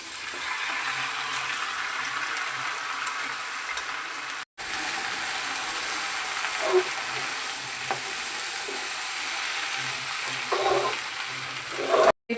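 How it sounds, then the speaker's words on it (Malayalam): Tapioca cooking in a pan with sautéed onions, giving a steady, close sizzle of frying with occasional stirring scrapes and clinks, and a brief cut partway through. "ഉള്ളിയെല്ലാം നന്നായിട്ട് വഴണ്ട് മുരിഞ്ഞ് വന്നിട്ടുണ്ട് അതിലേക്ക് കപ്പ ചേർത്ത് കൊടുക്കാം"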